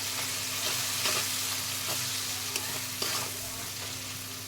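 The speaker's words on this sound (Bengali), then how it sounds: "একটু ভালো করে ভেজে নেব।" Ground spices sizzle in oil in a pan for sambar, a close, continuous frying hiss with soft scraping stir strokes at a slow irregular pace, no voices.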